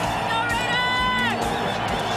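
A football stadium crowd at an Oakland Raiders game roars and cheers in a loud, continuous wash with scattered whoops.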